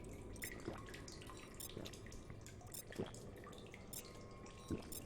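Water dripping in a cave in The Solus Project video game: sparse, faint drops falling at irregular intervals over a low, hollow ambient hum.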